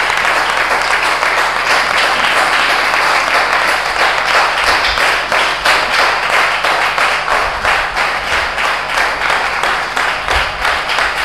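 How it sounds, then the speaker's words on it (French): A church congregation applauding the Virgin Mary during a novena, with loud sustained clapping that falls into a steady rhythmic beat and carries on for several seconds. "nous pouvons quand même applaudir la Vierge Marie pour ce qu'elle est"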